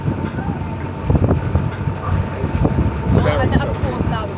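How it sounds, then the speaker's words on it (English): Gusty wind buffets the microphone beside the Don Aqueduct on choppy water, a loud rushing roar that swells and fades over a few seconds. "Of course the wind picks up."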